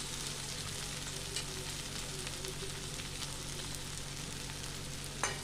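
Flattened rice (chira) is tipped into fried onions in a pan and sizzles in a steady, close hiss, with a faint clink or stir near the end and no talking.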